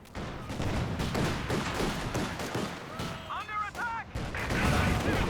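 Rapid gunfire and explosive bursts from a Company of Heroes 2 battle, with German OKW forces clashing against Soviet troops, crackle densely and continuously at close range, overlaid with chirping in-game radio voices.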